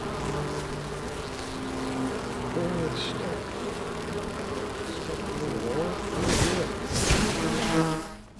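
Bees buzz in the video game Enshrouded, a wavering insect drone that swells and fades across the clip, with louder bursts near the end amid game noise.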